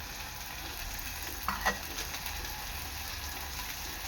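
Maggi masala noodles sizzle and fry steadily in a pan as spices are stirred in, a continuous hiss with a couple of brief scraping clinks near the middle.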